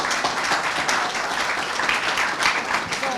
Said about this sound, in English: Let's give all of the champions a round of applause.